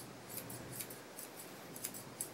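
Grooming scissors trim the face of a miniature poodle in quick, crisp snips at close range, several light cuts in an uneven rhythm over a quiet background.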